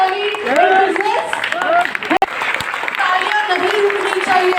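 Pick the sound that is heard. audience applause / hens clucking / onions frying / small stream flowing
audience applause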